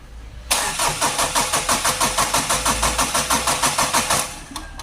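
Mitsubishi 4D56 turbo diesel engine, freshly overhauled, cranking on the starter with a steady rapid rhythmic chug, loud and close, for about four seconds before it cuts off.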